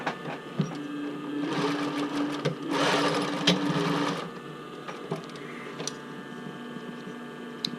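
A home sewing machine stitches a bra band just below the ring, running in a steady close mechanical whir with a louder middle stretch and small ticks and clunks around it.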